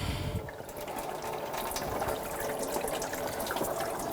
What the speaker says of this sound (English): Just let it drain just like that.